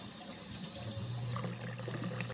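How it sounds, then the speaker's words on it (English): Running water rinses soap off refillable plastic bottles at a sink, a steady close splashing stream with no talking. "I have to wash the soap off of these bottles."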